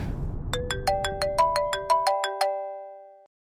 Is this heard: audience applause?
no